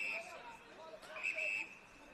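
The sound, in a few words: umpire's double whistle at a football match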